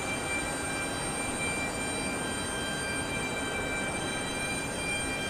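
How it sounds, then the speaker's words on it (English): Distant Atlas Air cargo jet taking off from the far north runway at Houston Intercontinental airport, a steady broadband engine roar with faint tonal whine, heard alone without talk. "The Atlas Air is now in position to take off, looks like, from the far north runway."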